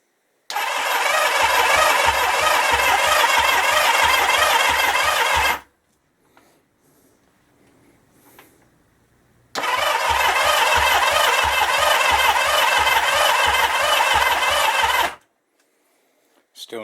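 Starter motor cranks a 1977 Kawasaki KZ650 B1 motorcycle engine that will not fire, in two long, loud churning bursts of about five seconds each, separated by a quiet pause.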